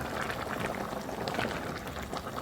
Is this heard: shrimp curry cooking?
yes